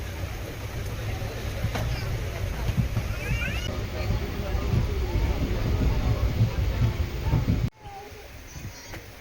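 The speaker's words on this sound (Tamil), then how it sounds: "இங்க நல்ல மழைங்க." Heavy rain pours at Tirur station during a Mangalore–Tambaram Chennai Egmore Express train journey, a dense, steady hiss that fills the whole stretch before dropping off sharply near the end.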